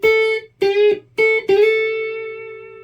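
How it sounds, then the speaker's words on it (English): Electric guitar lick of several clipped, sustained notes with bends and a final slide up to an A, ringing out and fading at the end, played alone. "bending up to that note, hitting that note, and then sliding up to that note"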